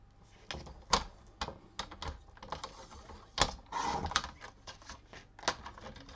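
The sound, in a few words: cutting paper for a pocket letter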